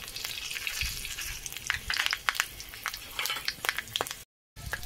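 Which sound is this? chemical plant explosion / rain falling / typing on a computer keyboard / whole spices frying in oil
whole spices frying in oil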